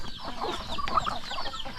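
Tall breeding chickens in a backyard coop cluck briefly, a few short close calls over a busy farmyard background.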